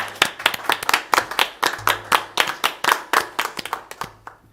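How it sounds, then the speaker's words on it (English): A room of people at a school board meeting claps together in a steady, loud round of applause, sharp hand claps close by, fading out toward the end. "So please join me in giving a round of applause and thanking him for his service"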